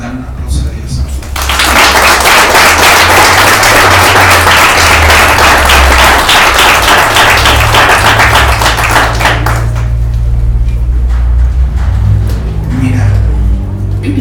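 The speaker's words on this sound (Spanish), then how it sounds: "Dame un aplauso a Dios." Church congregation breaks into loud, sustained applause lasting roughly eight seconds, a dense wash of many hands clapping together, then fading as a voice resumes speaking over low background music.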